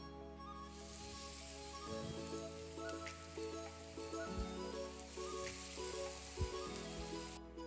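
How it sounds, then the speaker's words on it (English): Yam pieces for yamarita sizzle and crackle in hot oil, a steady bright frying hiss with scattered pops, plus a low background hum. "we are done frying"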